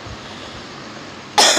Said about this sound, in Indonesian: ini batuk, tapi batuk alergi